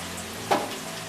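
Soy sauce hits a hot pan of frying egg pakoras with one short, sharp sizzling burst that rises briefly over a faint steady frying hiss.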